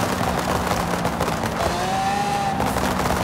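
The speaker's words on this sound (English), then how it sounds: "The pops and everything on the V12." Rapid crackling anti-lag exhaust pops from a Lexus LC 500 V12 in Forza Horizon 5, a dense burst of sharp bangs over a steady engine drone, loud and close.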